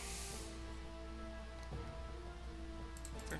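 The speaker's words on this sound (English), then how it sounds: "So it's raining, obviously." Rain falling in the video game Three Kingdoms: The Last Warlord, a steady soft patter under a low droning music bed, continuous and fairly quiet with no talking.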